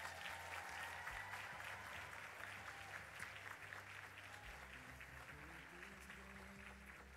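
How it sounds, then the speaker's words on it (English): An audience at a K-2nd grade school concert at a Baptist school claps, a soft, sustained patter of many hands heard from a distance, with a low hum underneath throughout. "a big applause for our young people today."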